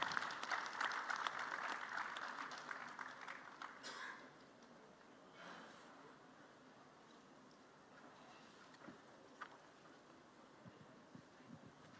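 Applause from a forum audience starts fairly loud and fades to scattered, faint clapping after a few seconds.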